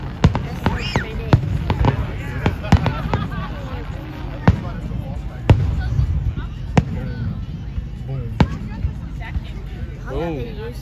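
Canada Day fireworks on July 1 boom and crackle in a steady series of sharp blasts, loud and fairly close, while a crowd chatters and people talk throughout.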